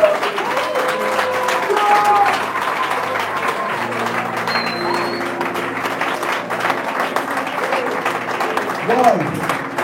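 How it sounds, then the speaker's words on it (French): A church congregation at a revival weekend service in Franceville applauds and cheers for the Lord: sustained, loud clapping from a full crowd with scattered shouts, whoops and a whistle, while a voice speaks over it. "Est-ce qu'on peut acclamer le Seigneur?"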